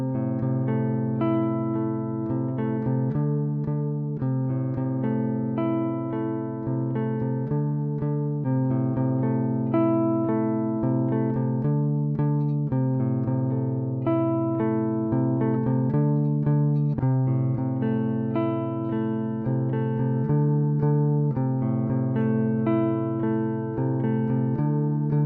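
Les Paul Custom electric guitar recorded direct without an amp, clean sustained chords and single notes ringing evenly at moderate level, alone with no voice.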